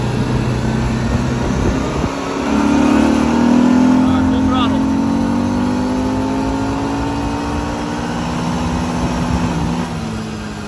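A Linhai 550 ATV engine revs up in low gear during a top-speed run, its rising drone held loud and steady with wind noise over it.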